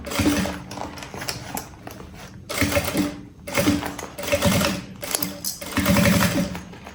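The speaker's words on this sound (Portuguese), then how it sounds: "Então, aqui a gente costura." Sewing machine stitching a fabric bag with a bottle pocket, running close and loud in several fast, steady bursts with brief stops between them.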